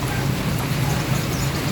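Heavy rain pours down steadily during a rainy-day outing in the Philippines, a dense continuous hiss that holds loud and even throughout, with a low rumble underneath and no voices.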